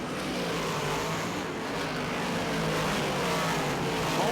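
Big block modified race cars roar around a dirt oval at the Volusia Dirtcar Nationals, a dense, steady engine drone from a pack of cars, loud and continuous with no talk.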